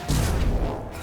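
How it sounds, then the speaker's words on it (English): An explosion in Mass Effect 2, a single heavy, rumbling boom that fills the moment and then fades, loud and near, with no talking. "Explosion!"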